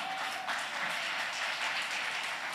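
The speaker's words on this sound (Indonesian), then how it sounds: "tepuk tangan buat Tuhan kita" Congregation clapping during a church service, a steady, dense wash of applause that stays at an even level throughout without any speech over it.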